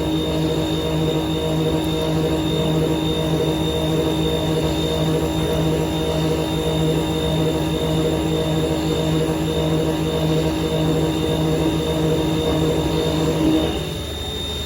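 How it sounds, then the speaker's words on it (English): A FlexCNC machine roughs counterbores at just over 3,000 RPM with an air blast clearing chips, giving a steady, loud machine drone with a constant hum and a high whine that runs unbroken and alone before easing off near the end. "We're gonna rough each counterbore."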